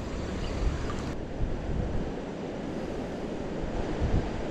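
A sizeable roadside creek flows strongly in a constant broadband rush, loud and close, with some wind buffeting the microphone.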